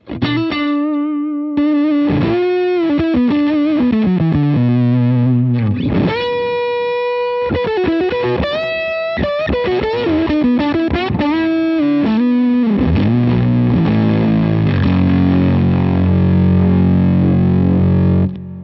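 Electric guitar driven through a Fuzz Face pedal into a Fender Hot Rod Deville amp, playing loud, distorted sustained notes and chords with bends and slides, then a dense, thick fuzzy passage, with no talking.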